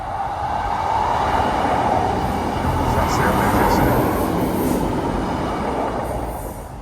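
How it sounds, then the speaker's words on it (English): A train passing through a station at Radcliffe, England, a loud, sustained roar of wheels and rails that swells and holds for several seconds, with faint squeals on top and a voice speaking over it. "Oh, there's a train coming through there now."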